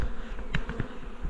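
Honey bees buzzing around a storm-fallen tree after a hive rescue, a close, steady hum with a few individual bees zipping past the microphone.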